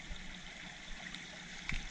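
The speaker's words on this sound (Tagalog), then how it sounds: "Malakas pa kasi ang tubig. Lalo na dun sa taas, malakas." A strong stream of water flows steadily in a rural creek where snails are being harvested, its broadband rushing constant and fairly faint throughout with no voices over it.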